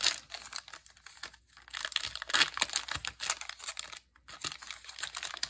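A trading card blaster pack wrapper crinkles and tears open up close, with a loud, continuous plastic crackle broken by a couple of short pauses.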